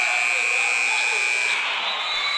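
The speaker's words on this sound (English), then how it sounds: "Got it at the buzzer." A basketball game's loud electronic buzzer ending the first period in a gym, one long steady blare that cuts off near the end.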